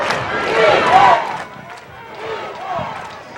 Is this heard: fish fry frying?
no